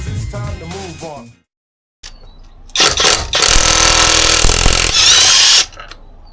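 A power tool on a car, a Mercedes SL, spins up to undo a wheel bolt while the wheel is held by hand. A short buzz is followed by a loud, sustained whirring rattle lasting about three seconds, with brief talk before the tool starts.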